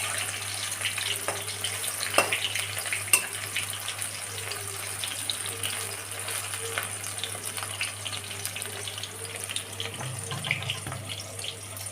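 Chicken pakoras fry in hot oil with a steady, close crackling sizzle that runs throughout, punctuated by a few sharper pops and clicks, with no voices.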